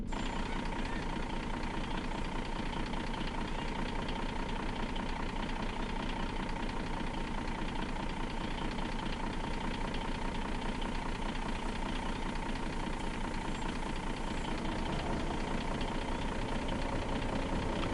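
A truck engine idles in On The Road Truck Simulator on PS5, a steady, even low drone with a slight knocking rumble that holds unchanged throughout.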